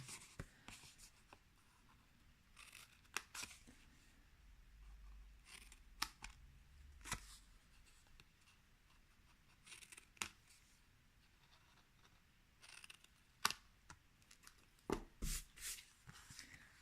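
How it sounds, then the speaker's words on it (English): Scissors snip through decorated paper for a gift box, cutting up to a score line: a few sharp, isolated crisp cuts and rustles spread over a quiet tabletop, with long hushed gaps between them. "I forgot to cut up to the score line"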